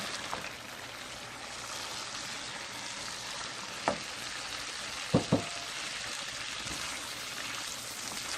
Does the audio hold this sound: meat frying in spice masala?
yes